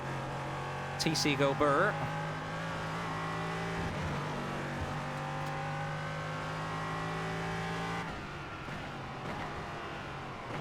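A race car engine in the iRacing sim revs steadily with fixed-setup tuning at around 246 km/h, holding a droning tone with a quick upshift into sixth gear and a brief squeal, while someone talks over it.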